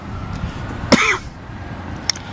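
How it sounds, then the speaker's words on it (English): A single sharp cough stands out against quiet outdoor background overlooking Halifax, followed by a fainter short cough or throat sound a moment later. "sorry for my coughing"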